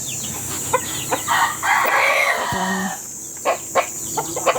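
Several chickens cluck in short bursts, and a rooster crows once in the middle, fairly close, over a faint insect hum, on a mountainside.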